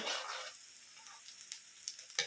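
Pork with onion and garlic sautéing in a pan for menudo, an opening burst of loud sizzle that settles into a quieter crackle broken by a few short scraping stirs.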